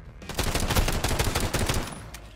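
Rapid bursts of pistol fire in the video game Warzone crack out in a dense, loud string of close shots that fades after about two seconds.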